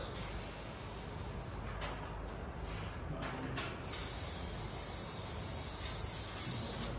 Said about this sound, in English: When you're done with the spray can, hold it upside down for 2 seconds.